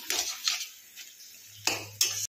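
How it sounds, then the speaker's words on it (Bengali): A utensil scrapes and clinks against a pan as pumpkin and dried fish are stirred, a few sharp knocks spaced apart over a quiet background. "এইভাবে নাড়াচাড়া করতে থাকো"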